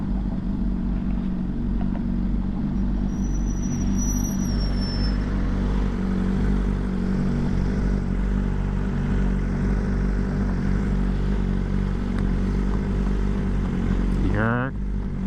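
A motorcycle is ridden on a cold day, its engine a steady, close drone under rushing wind noise, with a quick rising rev near the end.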